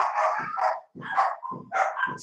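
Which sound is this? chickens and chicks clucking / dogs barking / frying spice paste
dogs barking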